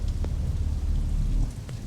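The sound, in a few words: heavy rain with thunder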